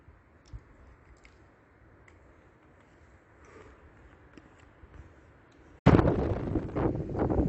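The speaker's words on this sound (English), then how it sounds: "Oh, that wind." Wind blows across a hiking trail on the Ajusco volcano near Mexico City. A faint, low rushing gives way to a sudden loud gust buffeting the microphone for the final seconds.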